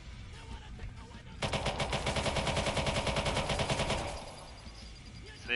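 Rapid sustained automatic fire from the U-100 light machine gun in Watch Dogs, a dense steady burst lasting several seconds after a quieter start, loud and close.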